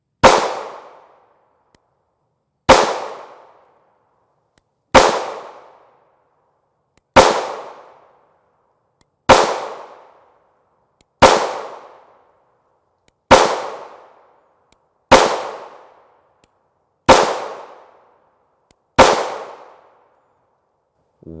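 A Springfield Hellcat subcompact 9mm pistol with a 3-inch barrel firing 124-grain FMJ rounds: ten loud, sharp shots, each with a short ringing decay, spaced evenly about two seconds apart.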